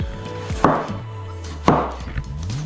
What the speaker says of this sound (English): chop up some tomato and some lemon